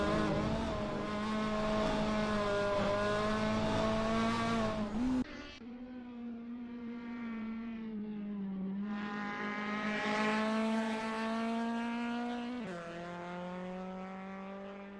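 GT race car in Assetto Corsa through the Vidal chicane at the Nurburgring, loud engine howl that abruptly drops on braking, then climbs again through rising revs and another gear change, close and continuous.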